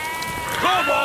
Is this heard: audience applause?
no